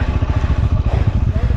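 A motorcycle engine chugs loud and close in a fast, steady pulsing rhythm as the bike is pushed uphill on a steep Spiti Valley mountain road.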